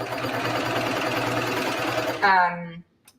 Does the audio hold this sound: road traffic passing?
no